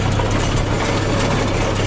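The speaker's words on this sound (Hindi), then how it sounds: "तो आपको पहले ट्रैक्टर को रेस दे देनी है" A tractor engine, being run up before engaging a rotavator, drones steadily and loudly at close range, a constant low hum with no clear change in pace.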